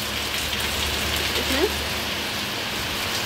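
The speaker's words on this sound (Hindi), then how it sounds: "देख रहे हैं ना कितनी जम के बारिश हो रही है आसमान में" Heavy monsoon rain pours down outside with a dense, constant hiss of drops on surfaces, while a voice speaks briefly and quietly beneath it.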